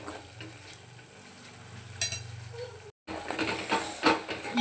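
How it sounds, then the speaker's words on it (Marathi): Mutton handi masala being stirred and roasted in a pot on a low flame, a steady soft sizzle under scraping spoon strokes against the pan, with a short break before louder stirring resumes. "आपल्या भाजीचा थोडा रस्सा आपण यामध्ये मसाला शिजण्यासाठी टाकूया आणि कमी गॅसवर छान आपला मसाला भाजूया."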